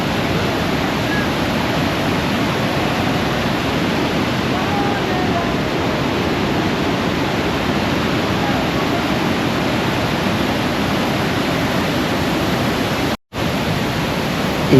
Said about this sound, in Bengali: এই ঝর্ণার সামনে বসে থাকতে আপনাদের খুবই ভালো লাগবে, আর এর যা আওয়াজ তা খুবই মনোমুগ্ধকর।